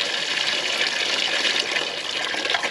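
Brownish water with chunks gushing from the drain plug of a 4x4 1.5-ton Chevy dually truck, a steady, close splashing pour that continues without a break.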